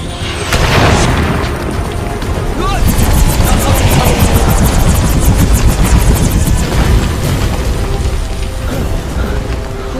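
Loud, continuous helicopter rotor roar with rapid chopping blades, heavy low rumble, and booming impacts throughout, like a dramatic action scene in a Hindi-dubbed film with a collapsing building.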